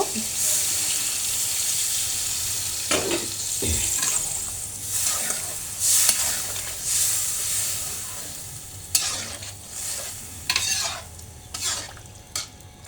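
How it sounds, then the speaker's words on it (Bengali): Water splashes and pours into a pot of sautéed bottle gourd, mixing with sizzling and stirring, with scrapes and knocks of a utensil. "এখন আমি পরিমাণ মতো পানি দিয়ে দেব"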